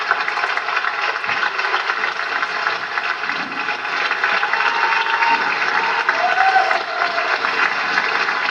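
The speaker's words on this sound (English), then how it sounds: "Matthew is getting what's called a standing ovation when the people stand up and clap" An elementary school audience at an award ceremony gives a sustained standing ovation, dense and continuous, with scattered cheers rising toward the end.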